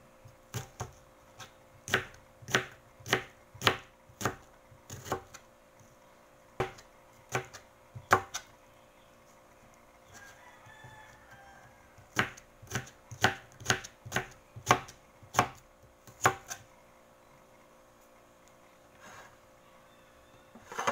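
A knife slices tomatoes on a cutting board while vegetables are prepped for pancit canton, giving crisp, close chops in quick bursts separated by short pauses, with no voices.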